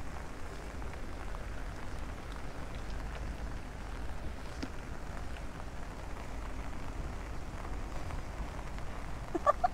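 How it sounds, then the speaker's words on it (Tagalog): Rain falling at the OCBC Skyway, Gardens by the Bay in Singapore, a faint, steady hiss of drops on surfaces, with scattered small patters and a few sharper ticks near the end. "Kasi umuulan."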